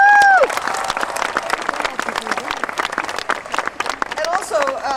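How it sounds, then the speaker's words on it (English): Graduation ceremony audience applause at UCLA, steady crowd clapping throughout with voices layered over it and a brief tonal squeal near the start. "Let's give him another round of applause."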